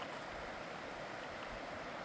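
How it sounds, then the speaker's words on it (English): A creek flowing beside a hiking trail on the way to a lake waterfall: soft, steady, broadband rushing water, faint and distant, with no voices. "you can hear some water running, like a creek flowing by"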